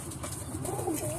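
A dirty, mouse-grey pigeon coos softly, a low rolling call rising in the middle, set against steady background noise with no talking.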